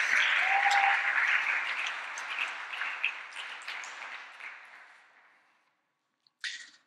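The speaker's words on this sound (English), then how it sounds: "let's give her a round of applause for all the great work that she did." An audience at an eco-project symposium panel applauds in a sustained clatter of clapping that gradually thins and fades out, followed by a brief sharp sound.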